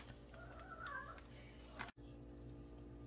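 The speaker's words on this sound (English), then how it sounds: "Sorry if you can hear the cat." A cat meows faintly in a short, wavering cry over a quiet indoor hum, followed by a brief bump and steady background noise.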